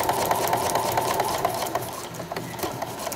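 A sewing machine stitches a placemat tote in a steady close whirr with a rapid needle rhythm, running continuously and easing slightly toward the end.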